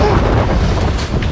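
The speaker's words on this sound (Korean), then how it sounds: "여기서 바람이 세긴 세다." Strong wind buffets the microphone at a roof construction site for a compressed rice-straw house, a steady, loud roar of broadband gusting with no clear speech.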